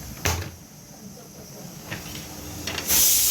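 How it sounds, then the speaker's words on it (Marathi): A kitchen pressure cooker suddenly lets out a loud, sharp steam whistle at the end, after a stretch of faint household clatter and a low background hiss. "वाजली शिट्टी कुकरची"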